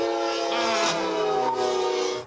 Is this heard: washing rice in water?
no